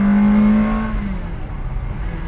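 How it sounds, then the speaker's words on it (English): A 2003 Ferrari 360 Modena Spider's V8 engine revs loudly at close range with a strong high-pitched drone, then the tone drops and fades as the car pulls away. "Listen to that V8 howl."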